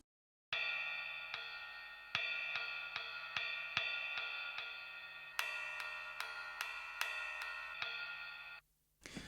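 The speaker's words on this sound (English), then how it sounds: "It's one of the cymbal sounds from my little sample library that I put out with the album." A cymbal sample run through outboard EQ and compression rings out in a series of bright, sustained metallic hits with a shimmering, bell-like tone, each strike decaying slowly into the next, with no voices present.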